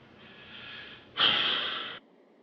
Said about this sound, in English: You're breathing kind of heavy, is it?